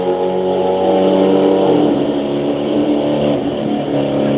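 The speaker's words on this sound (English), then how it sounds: "He patting that throttle." Hemi drag race car engine at Orlando Speed World, loud and close, holding a strong droning roar and then dropping into choppy throttle pats with rising and falling pitch.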